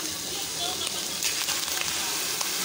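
Ham sizzling in a frying pan with mushroom, onion and garlic for carbonara, a steady close hiss with faint crackles and occasional pops, low in level and unbroken throughout.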